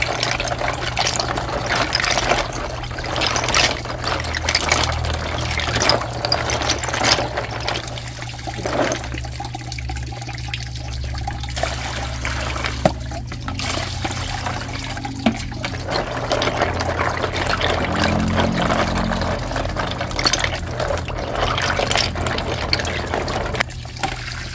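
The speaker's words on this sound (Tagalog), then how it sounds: "Atin po munang ibababad sa tubig tabang para yung putik ni lumabas pa hani." Bagungon fish soaking in a basin of fresh water to draw out mud, with a steady close watery wash and trickle running throughout, low hum underneath, no talk.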